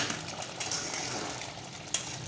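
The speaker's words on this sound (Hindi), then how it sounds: "2 मिनट हम इसको भून लेंगे हल्का सा चम्मच लगा के" A spoon stirs aloo matar gosht curry as it fries in a pan: a steady close sizzle with soft scraping strokes and one sharp metallic clink near the end.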